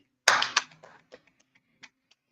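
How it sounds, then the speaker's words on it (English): A few sharp hand claps ring out in a quiet room, two loud ones close together followed by scattered fainter claps trailing off, with no talking. "Let's clap it up."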